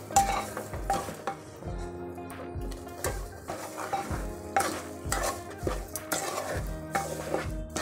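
Sugar being stirred into semolina in a pan, with a spoon scraping and clinking against the metal in a steady repeated rhythm over a soft sizzle, close and fairly loud.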